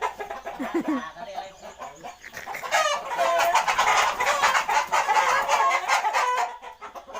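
Several fighting-cock chickens cluck and squawk loudly close by, rising into an agitated, continuous burst of rooster-like calls that fades near the end.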